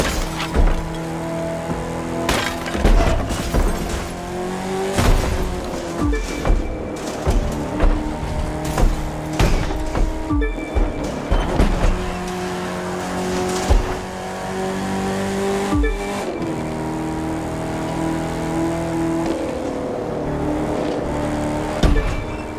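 A racing truck engine in The Crew 2 video game roars and revs hard through repeated gear changes, close and loud, with sharp crashes and impacts cutting in.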